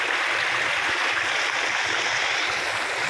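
Water pours over a NIA irrigation storage spillway on a mountain trail, a steady broadband rushing roar filling the whole stretch without pause, close and fairly loud.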